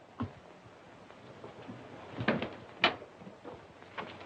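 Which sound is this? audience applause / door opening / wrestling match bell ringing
door opening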